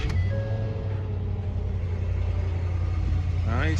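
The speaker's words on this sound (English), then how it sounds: "Let's see how it sounds with the exhaust put in place." A car engine with a newly fitted exhaust rumbles in a low, steady idle that stays even and fairly quiet throughout, with a faint rising tone at the very end.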